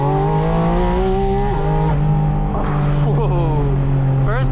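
A Porsche 718 Spyder RS flat-six revs hard toward 9,000 RPM, its loud, close engine note rising and falling in steady harmonic sweeps, then climbing sharply again at the end.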